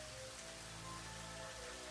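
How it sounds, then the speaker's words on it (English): Rain falling in the video game Elder Scrolls 2, a steady, even wash of soft rainfall with faint tonal game ambience underneath, continuous with no talking. "It's a rainy day."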